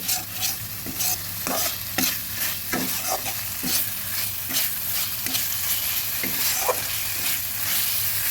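Spice paste fries in a pan for a prawn malai curry made without coconut milk. A loud, continuous sizzle is broken by regular scraping stir strokes about once a second, with no talk.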